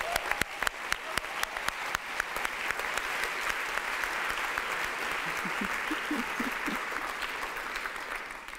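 A university audience applauds steadily for a philosophy PhD contestant at a Swiss science-communication final. Dense, even clapping fills the whole stretch with a few sharper nearby claps, fairly distant and moderate in level, with faint murmurs underneath.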